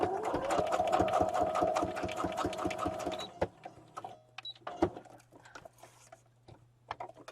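Sewing machine stitching along the edge of a paper card, a fast close mechanical whirring chatter for about three seconds, then stopping, followed by faint clicks and handling noises.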